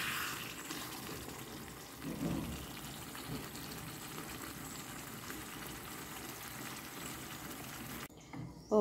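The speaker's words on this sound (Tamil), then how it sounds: "இப்போ இந்த வெங்காயம் எல்லாம் வதங்கிக்கிட்டு இப்போ கறி பழக்கம் நல்ல டேஸ்ட் ஆகிடும்" Onions and liver curry frying in a pan for a spicy Tamil-style liver curry, giving a steady close sizzle and crackle that runs nearly unbroken, with a brief stir-like scrape early on and a short pause near the end.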